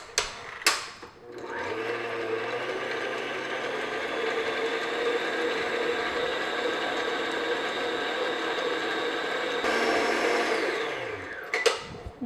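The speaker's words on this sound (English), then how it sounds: "we're going to beat this for a couple minutes until it's nice and light and fluffy" An electric mixer beats butter and granulated sugar for a cookie dough, starting up with a click and running in a steady, moderately loud whir with a grinding edge for about nine seconds before speeding up briefly and switching off.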